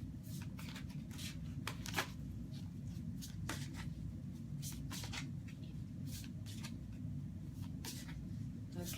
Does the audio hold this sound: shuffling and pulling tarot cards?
yes